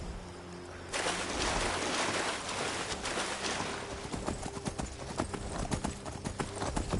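In the Skyrim VR video game, a horse swims through water with continuous splashing and churning, and heavy effortful snorts and breaths come up close over the steady wash.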